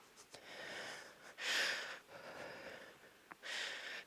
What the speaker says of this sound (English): Sorry if you can hear me breathing.